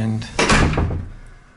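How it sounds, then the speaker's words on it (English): A half-hour fire door in a house, leading between the garage space and the front room, swings shut with a solid, near thud. A voice is briefly audible around it. "This is a fire door,"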